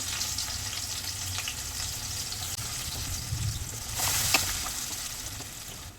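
Onions fry in oil in a kadai, a faint, steady sizzle with a brief louder hiss and a stir near the end.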